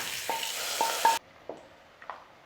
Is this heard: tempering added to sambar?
yes